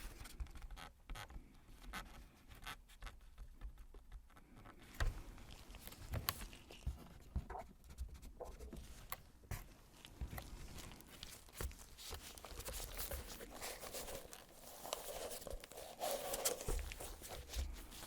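Wax-coated paper crinkles and rustles as it is handled close up for packaging art books, soft, quiet and intimate, with a steady stream of small crackles and taps.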